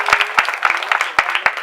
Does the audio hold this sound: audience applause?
yes